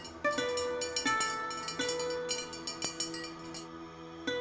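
Ru ware porcelain rings and clinks in a series of bright, chime-like strikes with lingering tones, a steady run of delicate taps followed by one last ring near the end.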